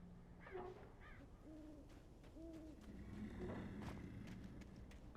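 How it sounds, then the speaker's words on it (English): A stock owl hoot sound effect from the Alan Wake video game plays as a few soft, wavering hoots in a quiet, dark ambience, with faint footsteps and rustling underneath. "I also heard that stock owl sound effect."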